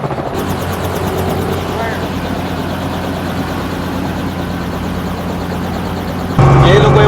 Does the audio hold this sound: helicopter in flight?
yes